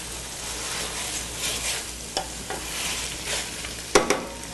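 Food being stirred around in a frying pan, a soft steady sizzle with a few sharp scrapes and clicks of the utensil against the pan, quiet and close with no talking.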